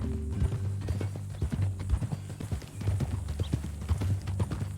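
Horse hooves clip-clop steadily across the ground in Red Dead Redemption 2, an even walking rhythm heard close and fairly loud beneath a low game soundscape, with no voices over it.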